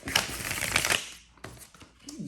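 A tarot card deck is shuffled by hand, giving a dense run of riffling card flutter for about a second, then a few sparse, softer card slaps and shuffles close by.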